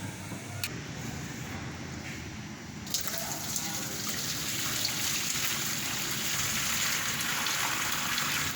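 Boiled water is poured out of a pot, gushing and splashing steadily in a broad continuous pour that swells slightly louder partway through, with no voices.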